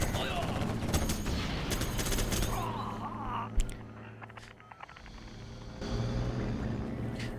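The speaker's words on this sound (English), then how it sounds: "Minigun is causing more damage to red." Minigun fire rattles in the strategy game Generals Zero Hour, rapid continuous bursts mixed with other battle noise, over a talking voice.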